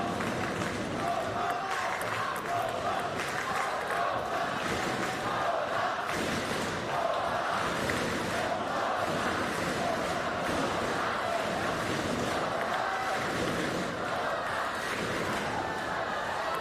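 A crowd at a para table tennis quarterfinal keeps up a dense, steady roar of cheering and chatter throughout, with no clear rise in volume.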